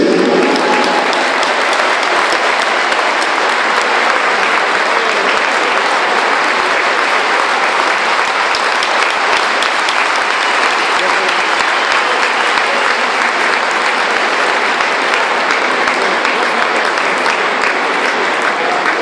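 A basketball crowd applauds at a celebration marking twenty years since a win over Real Madrid, producing loud, steady, dense clapping that fills the whole stretch without letting up.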